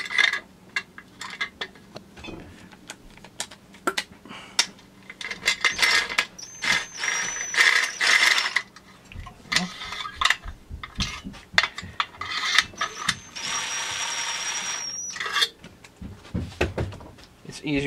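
A ratchet turning bolts on a Farmertech 372xp chainsaw clone kit with the handle removed, giving bursts of rapid clicking and mechanical clatter between pauses as someone talks over parts of it.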